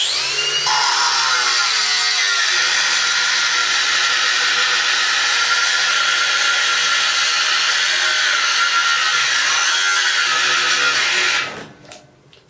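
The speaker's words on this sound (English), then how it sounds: "I was actually trying to cut through the rebar with a grinding disc, so that puts a lot of pressure on the little machine, and it stopped" A cordless angle grinder with a grinding disc cuts through steel rebar. Its loud, steady high-pitched whine holds for about eleven seconds, then stalls and abruptly dies away.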